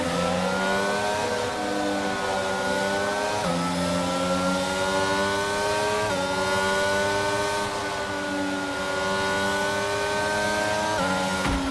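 A high-pitched Formula 1 car engine in the video game F1 22 whines steadily at the Miami round, its pitch climbing and dropping sharply at each gear change, loud and continuous with no talking.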